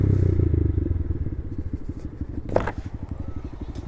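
An orange KTM motorcycle engine throbs nearby with a rapid, pulsing exhaust beat that fades slightly as it moves off, with a brief clatter partway through.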